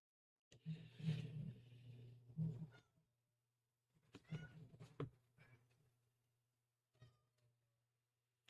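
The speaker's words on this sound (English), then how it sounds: "My cat is caterwauling." A cat caterwauls in long, drawn-out, wavering yowls, three separate bouts spread out with quiet gaps between them, fairly close and clear with no talk over them.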